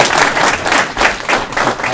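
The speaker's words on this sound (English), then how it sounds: "We can clap for the bank" Applause from a meeting audience after a guest is called up, a steady wash of many hands clapping at moderate loudness with soft surges, no speech over it.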